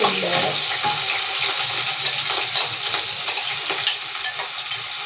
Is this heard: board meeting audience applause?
no